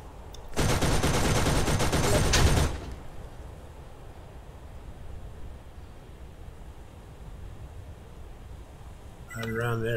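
A loud, dense burst of turret gunfire in Borderlands lasts about two seconds, then fades to low background hiss, with a brief sharp sound near the end.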